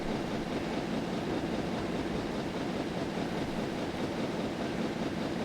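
A steam train in Train Simulator 2021 rolls across a bridge on the Bristol to Exeter line, a steady dense rumble of wheels and track noise, loud and unbroken with no talk.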